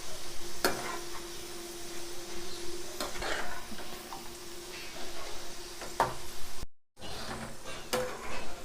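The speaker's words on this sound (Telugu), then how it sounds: "మంచిగా ఇట్లా కలర్ మారేటట్టు మంచిగా ఎర్రగా వేయించుకోవాలి" Potato pieces frying in hot oil for a crispy potato mixer snack, a steady close sizzle with occasional stirring scrapes and clinks of a utensil against the pan, no talk.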